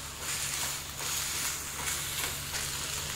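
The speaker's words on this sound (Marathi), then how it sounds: "आता आपल्याला घालायचा आहे यात बटाटा आणि तोही आपल्याला अजून 1 मिनिट असा परतून घ्यायचा आहे गवारीतच" Potato pieces and cluster beans (gavar) stir-fried together in a pan, giving a steady close sizzle with soft scraping stirs, continuous through the moment with no talk.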